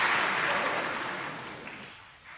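An audience at a Hindi spiritual discourse claps together in a broad wash of applause that starts full and gradually fades away over about two seconds.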